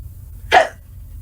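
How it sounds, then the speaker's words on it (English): A single short, sharp hiccup sounds close and alone against a quiet background. "I got the hiccups."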